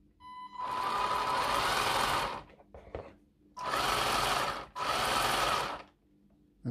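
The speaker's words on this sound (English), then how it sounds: "it's a DC motor, it is happy to run in both directions" A Tamiya King Hauler RC truck's DC motor whines loudly in three separate bursts, driven forward and then in reverse, each burst rising, holding and dropping off, with brief quiet gaps between them.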